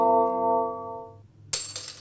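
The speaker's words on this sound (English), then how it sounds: "The Mac chime." Mac startup-style chime heard during the 1998 Slingo computer game: a sustained harmonic tone that fades out, followed by a bright metallic jingle burst near the end, fairly quiet and with no talking.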